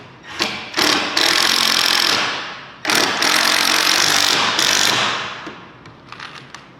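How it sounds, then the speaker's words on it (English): A drill drives pocket screws into a wooden face frame on a flat surface, giving several loud, close bursts of whirring motor and grinding screw, each a second or two long with brief stops between. "Then I'm gonna start screwing in my pocket screws."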